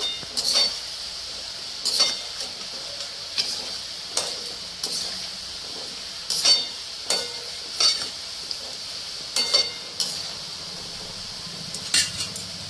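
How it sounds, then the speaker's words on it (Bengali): Cheese nimki frying in hot oil, stirred with a slotted spoon: a steady soft sizzle punctuated by regular metallic clinks and scrapes of the spoon against the pan, close and fairly quiet, with no talking. "আবার সবগুলো ভেজে নেবো এইভাবে। এইভাবে ছান্তা দিয়ে নাড়াচাড়া করে নিতে হবে"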